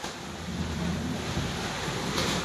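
A heavy rainstorm with wind produces a dense, continuous wash of rain noise, fairly soft and even, with a low rumble beneath it.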